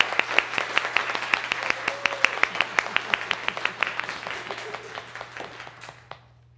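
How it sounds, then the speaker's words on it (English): A congregation at a Sunday service gives a round of applause for community leaders, steady rhythmic clapping from many hands with a low hum underneath, tapering off into quiet. "Let us now show our appreciation of all these leaders with a round of applause."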